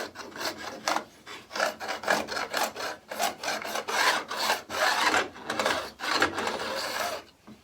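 Frets on a cigar box guitar being sanded smooth: a steady series of raspy back-and-forth strokes, close and moderately loud, rhythmic and continuous, with no talking.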